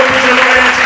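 Church congregation breaking into loud, dense applause during a morning worship service, a steady wash of clapping with crowd noise throughout.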